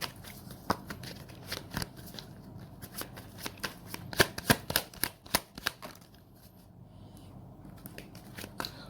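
Tarot cards are shuffled up close in a quick run of crisp riffling clicks and flutters that go quiet for a moment near the end.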